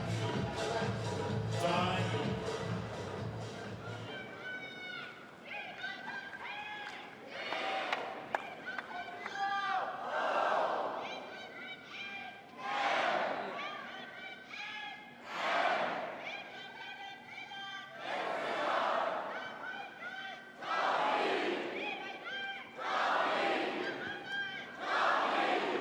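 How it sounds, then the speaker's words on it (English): A tennis crowd at the 2012 Hamburg ATP final cheers on its home-born player in loud, rhythmic surges of chanting and shouting, with short lulls between bursts. "The crowd doing everything they can, hoping for one final effort"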